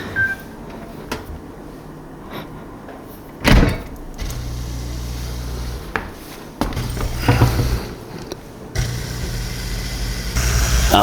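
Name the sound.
dishwasher running drain cycle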